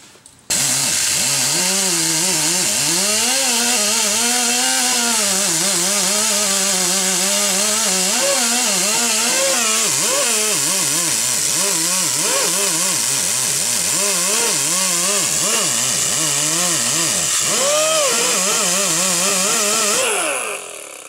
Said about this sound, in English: Let's also try a wire wheel.